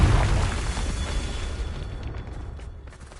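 A Confringo spell explosion from Hogwarts Legacy bursts with a deep, loud boom that rolls off and fades over about three seconds, with no speech.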